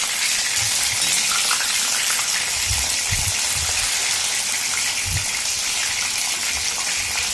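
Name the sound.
mushroom 65 deep frying in oil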